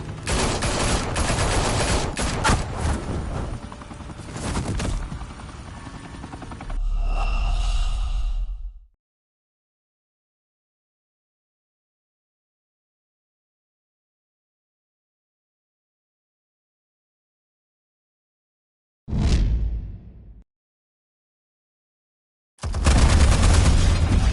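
Bursts of gunfire erupt in a Batman scene, a loud rattling volley that breaks off abruptly into long silence, followed by a single short burst and a final loud one.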